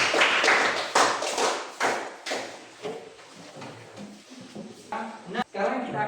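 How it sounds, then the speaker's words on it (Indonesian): A class applauds a student group, with a few seconds of brisk, scattered hand clapping at close range that tapers off as a teacher starts talking. "Kita berikan tepuk tangan untuk kelompok."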